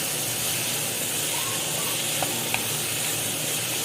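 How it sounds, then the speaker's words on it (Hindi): Capsicum and carrot frying in a pan for white sauce pasta, a steady loud hiss and sizzle throughout with a couple of faint utensil clicks, no voices. "शिमला मिर्ची भी डाल देंगे इसमें। इसको भी फ्राई कर लेंगे।"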